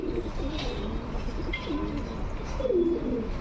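Several domestic pigeons coo in low, rolling phrases against a steady outdoor background hiss, with a few faint chirps mixed in.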